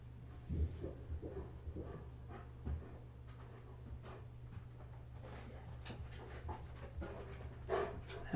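A dog pants close by in steady, quick breaths, with a few small knocks and faint movement sounds, quiet throughout.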